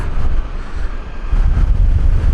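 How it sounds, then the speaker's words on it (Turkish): Heavy, rumbling wind buffets the microphone in a steady low roar that surges louder partway through, with no voices; a gale strong enough to nearly topple a Honda CRF250 Rally motorcycle. "Of felaket rüzgarı var."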